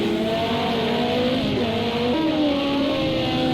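Porsche race car engine in Project CARS 2 racing at the Nurburgring, a steady loud drone with whining tones that rise and dip as the car shifts and accelerates, filling the whole stretch without talk.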